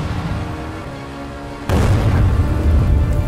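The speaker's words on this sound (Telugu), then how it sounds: "అప్పుడే హఠాత్తుగా ఒక మిస్సైల్ బాంబ్ బైక్ పక్కనే పేలుతుంది." A missile bomb explodes beside a motorbike as a dramatic story sound effect. After a steady tonal bed, a sudden loud boom breaks in and settles into a heavy, sustained rumble.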